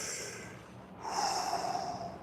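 A deep breath drawn in through the nose during a breathing exercise, a soft airy inhale followed by a stronger, louder breath, close to the microphone with no talking.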